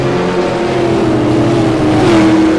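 A V8 race car drives at Okayama circuit, its engine droning loud and steady with a sustained tone that dips slightly as it is backed into a corner.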